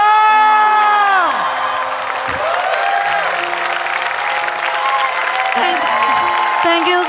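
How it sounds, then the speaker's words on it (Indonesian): A talent show audience on Indonesia's Got Talent applauds steadily, with cheering and whoops mixed into the clapping as a host's voice and musical tones ring out over it. "Kita kasih tepuk tangan lagi dong."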